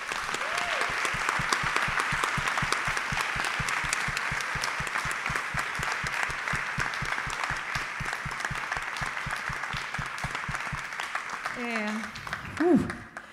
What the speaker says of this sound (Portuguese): Eu queria pedir uma salva de palmas para o Antônio Cícero.